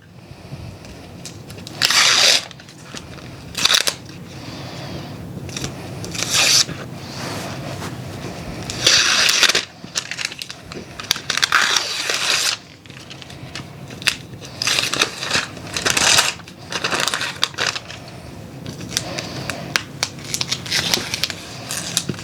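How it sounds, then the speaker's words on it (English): Sticky protective film being peeled and ripped off a duffel bag, with repeated loud crackling tearing bursts and short pauses between pulls, close up and without talk. "so I can get my nail underneath it and start ripping this film away"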